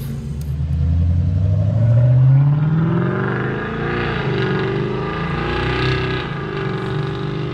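Camaro SS fifth-generation V8 with Badlanz exhaust cutout valves open, a loud, deep engine rumble that swells into a rising rev around two seconds, then settles into a steady, throaty idle with slight wavering.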